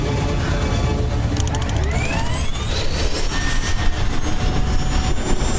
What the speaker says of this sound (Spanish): Segundo grupo de aviones de combate en posición.